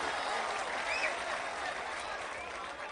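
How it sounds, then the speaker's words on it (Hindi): A crowd at a Delhi mushaira applauds a humorous Urdu poet with continuous, even clapping that sounds somewhat distant and subdued, with a low murmur of the crowd underneath. "एक बार और जोरदार तालियां बजाएं, जोश आएगा समर साहब"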